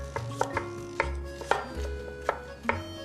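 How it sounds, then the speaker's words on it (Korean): Knife julienning vegetables into thin matchsticks on a cutting board, a steady run of crisp, close chops in an uneven rhythm, with no voices. "가늘게 채를 썰어주세요"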